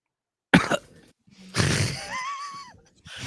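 A single harsh cough bursts out, followed after a pause by a longer raspy, voiced throat noise with a rising-falling strained tone, loud and close with no clear speech.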